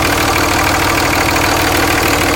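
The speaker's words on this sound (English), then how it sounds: "Got it high idling with a gallon of water." A Cummins 5.9 diesel engine runs at a steady high idle, loud and close, with a continuous even rumble and no break throughout.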